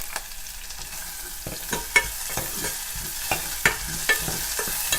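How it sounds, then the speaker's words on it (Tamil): Mustard seeds and cumin sizzle steadily in hot oil for a tempering, a dense crackling hiss with scattered sharp pops and the scrape of stirring, close and without talk. "இந்த தாளிப்பில் கடுகு சீரகம்"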